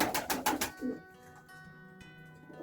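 Pigeons and young pigeon chicks in a loft during winter feeding give a quick burst of rapid pecking or fluttering, then a single soft low coo close by, with quiet background afterward.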